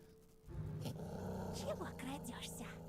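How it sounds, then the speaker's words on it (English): A black silhouette in the Tiny Bunny horror game speaks in a low, rumbling growl that starts abruptly and holds for a couple of seconds, with warbling, voice-like rises on top. "That doesn't seem a sweet voice, it seems like growling."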